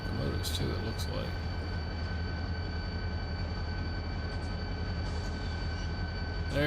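Diesel locomotives rumbling steadily in the Run 8 train simulator, a brake dragging on one unit, with continuous low engine drone and rail noise, a few brief higher squeals near the start.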